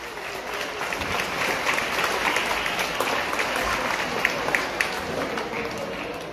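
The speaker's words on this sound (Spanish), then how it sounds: "Un aplauso para todos ustedes, señor." Audience applause at a motivational youth talk in Catamayo, a dense, steady wash of clapping from a large crowd with a few sharper claps standing out, at moderate distance.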